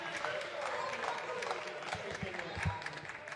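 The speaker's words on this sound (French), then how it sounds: "Applaudissez, soyez fiers de vous." An indoor audience applauds, a faint, dense patter of clapping hands that swells slightly toward the end.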